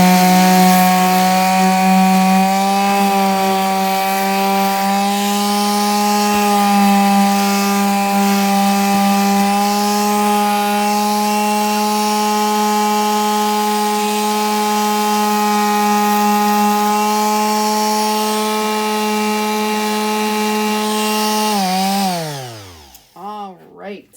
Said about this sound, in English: I am going to use my palm sander for this